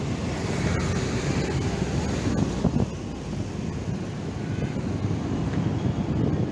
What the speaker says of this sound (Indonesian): Angin berembus membuat udara cukup nyaman.